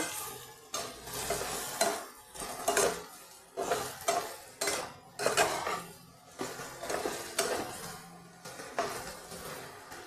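Spiced beans being stirred in a pan with a metal spoon, a series of rhythmic scraping strokes with clinks against the pan every second or so, over a light sizzle, close and clear.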